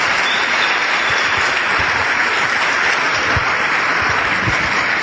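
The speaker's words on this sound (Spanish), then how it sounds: "Dale un aplauso porque eso es impresionante" Dense, sustained applause from a business seminar audience fills the space steadily from start to finish, with no talking over it.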